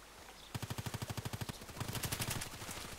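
Orsis T-5000 sniper rifle fire in the Contract Wars video game, a quick rapid run of sharp evenly spaced shots followed by a denser, louder burst of gunfire close by.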